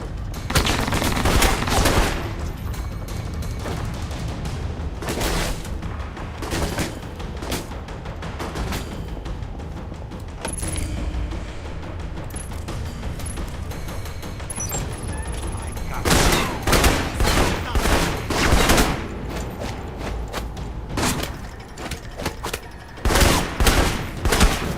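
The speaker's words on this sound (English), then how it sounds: "I hear them shooting." Gunfire in the video game Alpha Protocol: repeated bursts and volleys of shots, loud and close, clustering at the start, in the middle and toward the end, with a steady hum of game ambience between them.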